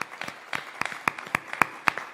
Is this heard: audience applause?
yes